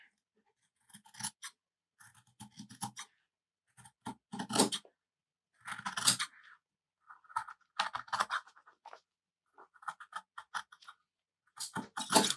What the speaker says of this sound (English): And now I'm going to start cutting it out.